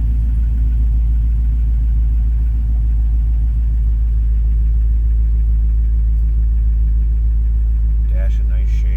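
A 1963 Cadillac Coupe DeVille with a 6-liter fuel-injected engine idles with a steady, deep, throbbing rumble, close and even throughout, and a voice speaks briefly near the end.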